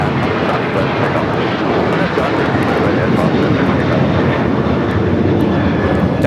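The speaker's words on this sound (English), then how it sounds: "That is American Airlines 1437 taking off to Indianapolis on the 737-800" An American Airlines Boeing 737-800 takes off from LAX, bound for Indianapolis, producing a loud, steady jet roar that fills the whole stretch without letup.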